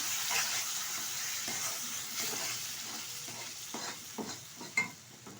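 Milk and water poured gradually into hot semolina in a small wok for mohanbhog sets off a soft, continuous sizzle, broken by intermittent stirring scrapes that grow sharper toward the end.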